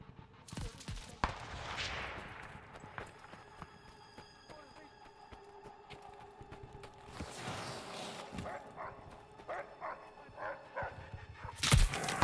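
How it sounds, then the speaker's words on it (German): Dogs barking in the World War II shooter Call of Duty Vanguard, scattered yips and barks amid game noise and bursts of action, with someone talking excitedly over them. "Nein, keine Hunde. Nein. Geht weg, ihr Hunde!"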